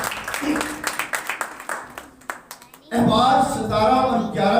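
A church congregation claps in a quick, irregular patter that swells into loud applause mixed with shouting voices, following a preacher's call.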